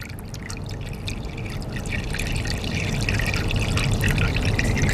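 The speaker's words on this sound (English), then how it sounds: "I'm actually going to take some water and very carefully not get it into my custard cups, but just into the pan up about 1 inch." Water pours steadily into a baking pan around custard cups for a water bath, a continuous close splashing trickle that builds slightly as it goes, with no talking.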